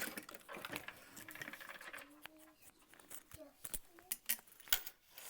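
A sewing machine runs in short bursts while basting a seam on an Emma backpack, close and fairly quiet, with light clicks and fabric handling between stitches.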